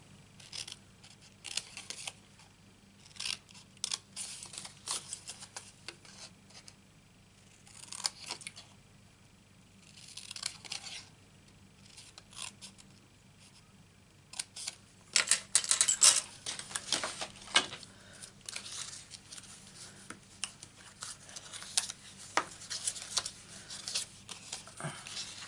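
Close, quiet scissor snips and small rustles repeat irregularly while craft material is cut up for a Christmas train project, with a denser burst of crisp cutting about midway.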